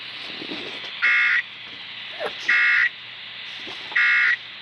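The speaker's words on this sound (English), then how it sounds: "This station is participating in a test of the Illinois Emergency Alert System." Emergency Alert System test tones from an Illinois station: three loud, steady electronic beeps of about half a second each, evenly spaced, over a low background hum.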